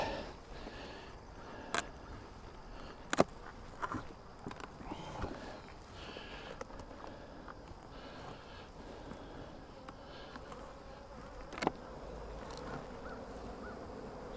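A low, steady hum of buzzing honey bees from a hive fills the background, with a few sharp clicks and taps breaking through now and then.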